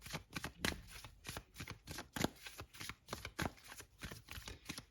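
Osho tarot cards being shuffled by hand: a quick run of crisp riffling flicks and soft slaps, close and steady throughout, with no voice.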